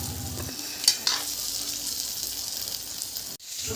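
Pork cooking in a wok over a fire, a continuous frying sizzle with a few stirring knocks and clatters early on and a sharp clunk near the end.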